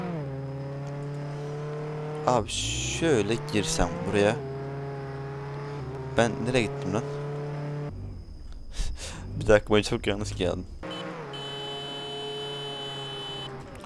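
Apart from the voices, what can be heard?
car engine driving in Roblox Jailbreak video game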